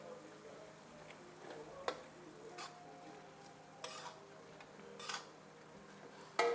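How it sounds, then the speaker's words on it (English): Couscous rice with chicken gravy being stirred in a pot, quiet scraping and soft sizzling with a few sharp spoon clinks against the pot's side, faint and close. "We stir again."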